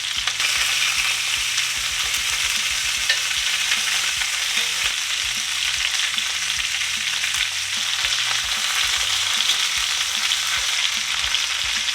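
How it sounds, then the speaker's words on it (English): Garlic-crusted lamb loin chops sear in a hot pan, giving a loud, steady sizzle and crackle that runs unbroken throughout, with faint rhythmic stirring or shifting underneath and no voices. "We're also gonna try and sear the sides"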